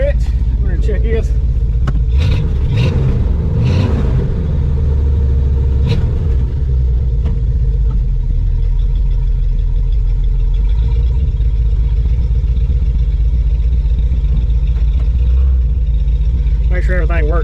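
A 1987 GMC Suburban engine fitted with an Evil Energy carburetor idles steadily with a deep, continuous low rumble, close and loud, with a few brief bumps in the first seconds and occasional faint clicks.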